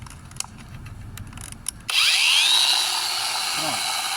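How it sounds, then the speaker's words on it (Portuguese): An electric sander switches on to drive a homemade water pump, a sudden steady high whine that starts partway through after quieter clicks and handling noise, then holds loud and continuous. "Então eu vou ligar aqui a bomba, no caso ligando a minha lixadeira"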